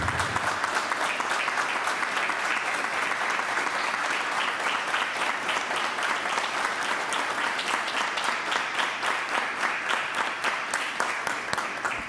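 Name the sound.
applause in honor of two people at a council session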